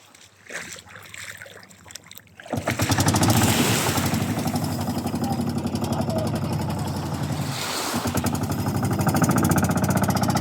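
A loud, steady fishing boat engine drones close by with a rough, pulsing texture, starting abruptly after a few seconds of quieter background noise.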